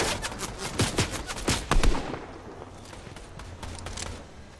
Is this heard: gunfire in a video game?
yes